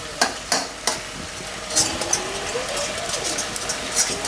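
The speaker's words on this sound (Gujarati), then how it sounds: "શાકના તવેથાથી હલાવવાની મજા આવે મસ્ત મિક્સ થઈ જાય અસલ" A spatula stirs mixed bhaji vegetables in a pan, giving a few sharp scrapes at the start, then steady scraping and stirring over a faint sizzle.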